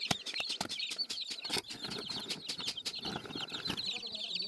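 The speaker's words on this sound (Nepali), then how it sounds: "चाइनिज बाबाले यहाँ कुखुरालाई धमिरा खुलाउँदै हुनुहुन्छ।" Village chickens cluck and scratch close by while eating termites, with short bursts of pecking and rustling over a steady background of farmyard noise.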